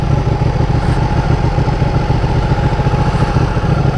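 A Ducati Panigale 1299 superbike idles close by at night, a loud, steady, throbbing engine rumble with a fast, even pulse and no voices.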